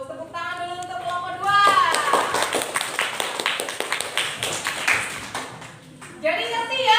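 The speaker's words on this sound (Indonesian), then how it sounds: "tepuk tangan dulu untuk kelompok" Classroom of pupils clapping for a group, a dense burst of many hands lasting several seconds, with children's and a teacher's voices speaking before and after.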